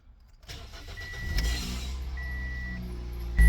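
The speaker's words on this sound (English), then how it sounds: "Most likely, if it's gonna start, it's gonna crank for a second and then start." Toyota engine cranking briefly then catching and starting, settling into a steady idle that swells louder at the end.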